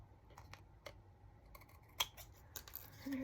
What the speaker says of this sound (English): I'm just going to trim these